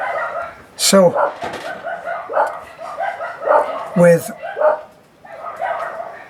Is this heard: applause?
no